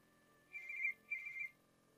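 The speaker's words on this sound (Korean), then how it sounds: "다음날 오전 전화." A telephone ringing in two short electronic trill bursts separated by a brief pause, clear but fairly quiet against a near-silent room with no talk.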